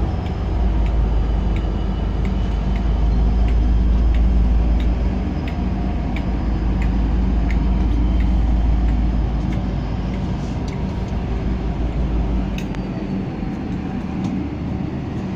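A deep, steady rumble of a passenger train pulling into a loop rolls past up close, with faint clicks and rattles from the wheels running through the whole stretch.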